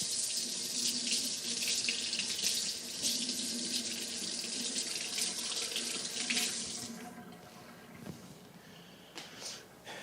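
A kitchen tap runs steadily as a piece of beef is rinsed under the stream, close and continuous hissing water that cuts off partway, leaving faint handling noises.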